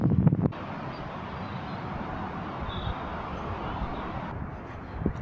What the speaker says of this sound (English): That wind's got up a bit